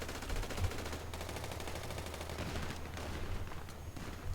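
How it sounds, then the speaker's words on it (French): Gunfire crackles in rapid bursts, with repeated shots fired somewhere away from the listener, fairly faint and spread over a few seconds in an urban neighbourhood. "Pourquoi vous tirez?"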